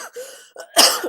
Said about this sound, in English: I'm even coughing